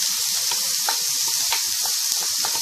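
Chopped liver and gizzards fry on a bed of onions in a pan, giving a steady bright sizzle with small pops and crackles, close and continuous with no talking.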